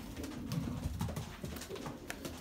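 Racing pigeons cooing in a loft, with low repeated coos in short phrases, near and moderately quiet, plus light rustling and clicks in the background.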